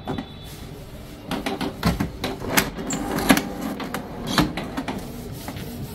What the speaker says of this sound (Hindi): अभी जो है हमारा कार्ड प्रॉपरली प्रिंट हो रहा है।